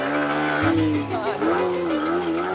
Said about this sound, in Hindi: हाँ, एक्सीलेटर लेके सडनली क्लच छोड़ना है झटके खटा के 1 सेकंड के अंदर।